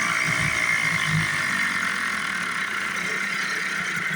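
A Gamefisher 3.5 outboard engine runs at max throttle after a carburetor clean, a steady high-pitched buzzing drone that holds throughout without a break.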